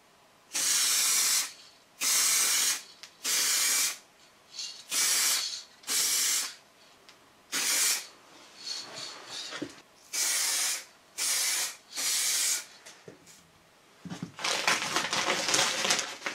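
Car body repairs on an Opel Kadett get another coat from a spray gun: about a dozen sharp, close hissing bursts in a steady on-off rhythm, ending in a longer rougher spray.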